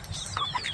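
Chickens cluck in a brief burst of short, sharp calls close by, a few quick notes over low background noise.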